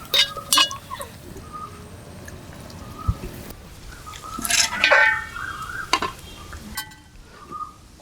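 Masala being stirred and mixed over fried fish with a light sprinkle of coriander leaves: scraping spoon strokes and soft clinks against the pan over a faint background sizzle, fairly close, with no talking.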